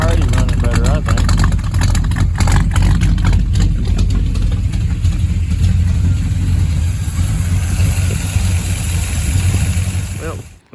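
A 1963 Pontiac V8 after a carburetor swap idles loud and close with a steady low rumble that holds for about ten seconds before cutting off at the end.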